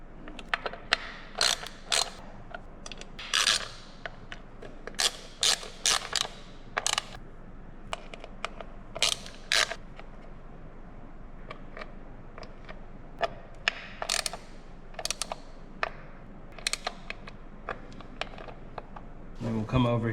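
Someone tightens the oil change bolts on a 2024 Harley-Davidson Road Glide, making a series of close, quick ratcheting clicks and metallic ticks in irregular bursts over a steady low background hum.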